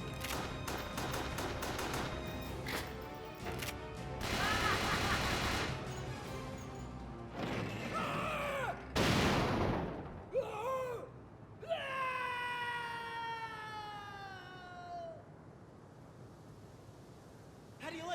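Gunfire in the action game Resident Evil: The Darkside Chronicles, with bursts of shots and crashes mixed with creature shrieks and screeching cries, while voices speak throughout.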